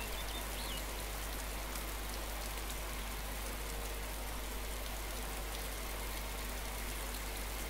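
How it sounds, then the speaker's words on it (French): Steady rain in the video game DayZ hisses evenly throughout, a dense wash of falling drops with a faint low hum beneath, and no voices. "puis il pleut"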